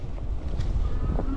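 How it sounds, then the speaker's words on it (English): Wind rushes loudly past the microphone while riding a Raev Bullet GTX electric bike toward a steep hill, a close, continuous buffeting roar with uneven gusts. "it's windy today"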